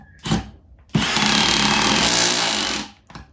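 A Milwaukee M18 Fuel Surge impact driver on speed 3 with a fully charged 3.0 battery drives a wood drywall screw in one loud, close, roughly two-second burst, with brief short blips before and after.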